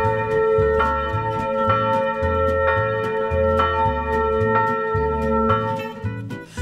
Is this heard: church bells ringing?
yes